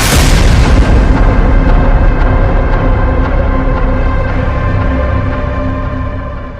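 A huge bomb blast during the Israeli bombing of Gaza roars loud and close, its deep rumble rolling on for several seconds and slowly fading, with no voices.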